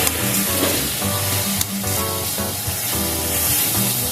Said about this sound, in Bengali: এটাকে দিয়ে একটু ভাজা ভাজা করে নেব।